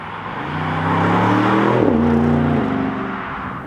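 An Audi RS6 Avant engine hums close by as the car moves, a strong low drone that rises and shifts in pitch through a gear change before settling back.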